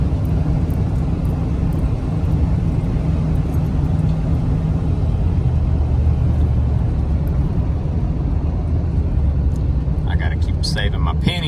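A vehicle towing a trailer on a trash dump run shifts lazily through its gears: a loud, close, continuous engine and road drone whose low pitch changes over time, with no clear break.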